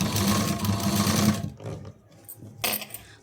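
A sewing machine stitching piping runs in a loud steady whir for over a second, then stops, followed by a few short start-stop bursts and clicks of the needle between pauses.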